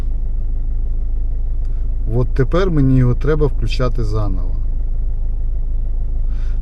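Car engine idling steadily after being started, a continuous low rumble close by while someone talks over it.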